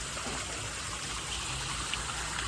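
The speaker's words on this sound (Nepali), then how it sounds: "यस्तो यस्तो ढुङ्गाबाट पनि पानी झरिरहेको छ है" Water trickling down from rocks at Rock City, Tennessee makes a steady, soft, wash of flow, even and unbroken for a few seconds with no voices.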